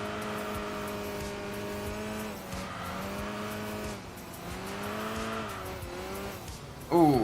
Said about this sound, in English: you can hear the upgraded engine as well